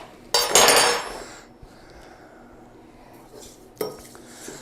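Sugar crystals stirred for fire brownies give a brief gritty scraping and clinking burst near the start, then a quieter stretch and a second short scrape near the end, close and moderately loud.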